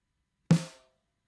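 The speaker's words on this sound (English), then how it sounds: "on the snare drum, it sounds like this." One uncompressed snare drum hit, a single sharp crack with a short natural ring that fades within a few tenths of a second, close and alone after silence.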